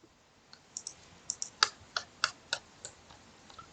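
A computer mouse clicks about a dozen times at an uneven pace, each click crisp, close and fairly quiet against a silent background, while saving a document in Mathcad Prime.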